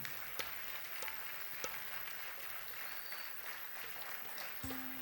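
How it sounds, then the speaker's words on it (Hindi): An audience at an evening poetry and music show claps in a faint, distant, even wash of applause, with a few sharper claps popping out and a brief low tone near the end. "तालियां बजाते रहिएगा"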